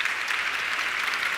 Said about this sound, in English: Big clap of hands for this guy here and for everyone who's made this happen.